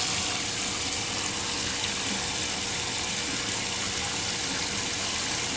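Hot tap water gushes steadily into a pan, a constant loud broadband rush with no breaks, close to the faucet.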